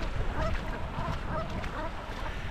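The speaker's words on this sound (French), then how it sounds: "Elles sont mignonnes ces petites bernaches cravants." Small brant geese call at an island shore in winter, a loose stretch of soft honking and chattering close by over a steady background wash.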